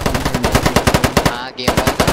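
Rapid automatic AK-47 fire in a video game, a steady burst of sharp, evenly spaced shots with one short gap near the middle, loud and close.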